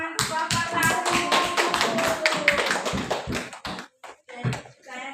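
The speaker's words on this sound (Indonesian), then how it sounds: "Tepuk tangan untuk kelompok 1." A small group claps for group 1 at a school academic supervision session. The sharp, irregular claps are close and fairly dense at first, then thin to a few scattered claps and stop.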